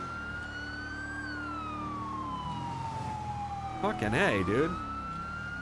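A wailing ambulance siren in the GTA roleplay video game, sweeping steadily up and down as a continuous tone, with a brief warbling yelp near the end; someone speaks briefly over it.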